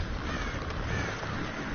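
Crows caw in the video game Tearaway, a dense, harsh, continuous wash of raspy calls that stays loud throughout.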